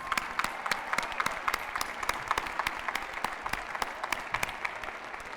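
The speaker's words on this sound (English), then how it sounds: "Moms, round of applause." Crowd at a UNC-Chapel Hill spring commencement ceremony applauding the mothers, a broad, continuous roar of clapping across a large gathering, with sharp individual claps standing out from the wash.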